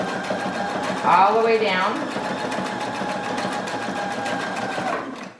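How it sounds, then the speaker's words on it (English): A sewing machine runs a steady zigzag stitch over elastic on a homemade fabric mask, a continuous close whirring hum with rapid needle chatter, while a person talks over it. "I'm doing a fixed stitch to hold that stitch in place"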